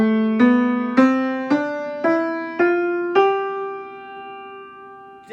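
Piano notes played by a beginner with both thumbs resting on middle C: seven clear, evenly spaced struck notes, close and moderately loud, each ringing out, with the last note left to sustain and decay alone.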